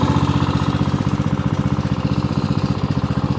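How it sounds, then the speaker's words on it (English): A cheap secondhand riding lawn mower engine idles close by, a loud, steady, throbbing putter with even rapid pulses and no voices over it. "It'll idle about right there"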